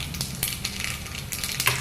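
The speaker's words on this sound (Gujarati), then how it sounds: "રાઈ ફૂટી." Mustard seeds splutter and pop in hot oil while a tempering is made for upma, giving a steady close sizzle broken by sharp irregular crackles with no talking.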